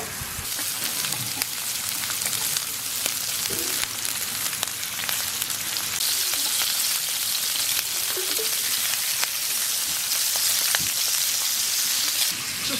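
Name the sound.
pork sizzling on Korean barbecue grill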